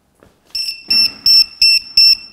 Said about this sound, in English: I heard this beeping from afar, and sure enough, it's run out of time.